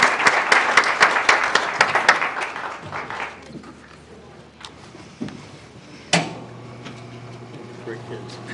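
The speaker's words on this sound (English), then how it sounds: "Let's give them one more round of applause." Audience applause at a Saline city council meeting rises as a dense burst of clapping for the first few seconds, then thins out into quiet room noise broken by a few scattered knocks and thumps.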